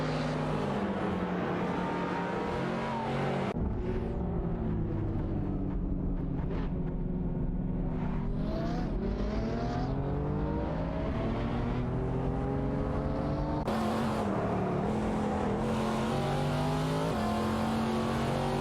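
Race cars, including a Chevrolet Corvette and a BMW M612, racing in a video game: continuous loud engine drone with shifting pitch as several cars rev and pass, and no talking.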